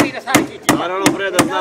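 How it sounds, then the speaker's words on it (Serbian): Nails being hammered with a machete, four sharp metallic whacks in a slow, steady rhythm, close and loud, heard under a voice talking. "narednih sat kucao sam eksere mačetom"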